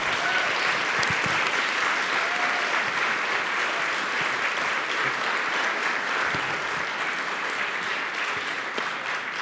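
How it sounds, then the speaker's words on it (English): Loud, steady audience applause at a literary festival talk in Boulder, dense clapping that holds at an even level from start to finish with no voices over it. "a big round of applause"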